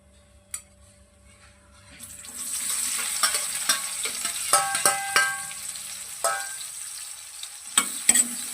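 Onions fry in hot oil with cumin and asafoetida in a pan: a loud sizzle bursts in after a quiet start, then keeps hissing with scattered scraping and clinking from a stirring spoon.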